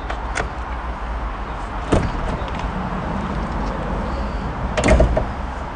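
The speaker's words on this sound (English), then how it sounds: "So I unlock the side door with the lower button." Side door of a 2020 Auto-Trail V-Line campervan unlocking and sliding open, with a few sharp clunks from the lock and latch against a steady outdoor background, fairly close.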